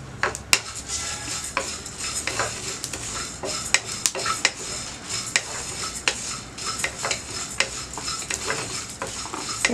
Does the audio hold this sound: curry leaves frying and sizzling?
yes